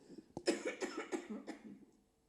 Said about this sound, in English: I'm going to have to cough again, I'm afraid.